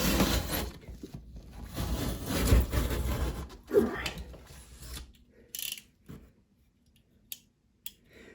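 A utility knife blade is worked while building a model railroad water scene: handling and scraping noises come first, then a few sharp, separate clicks close to the microphone as the blade moves in and out.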